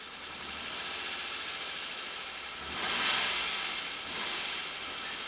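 A Nissan 300ZX Z32 engine idles steadily at about 1000 rpm with the mass airflow sensor disconnected, giving a constant hum with a brief swell in the middle and no talk.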